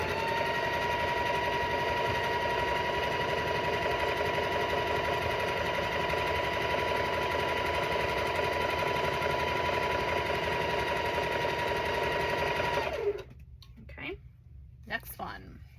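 A sewing machine runs steadily and loud, joining two rows of a cat-themed quilt in one long continuous drone that stops abruptly near the end, leaving a few soft handling sounds.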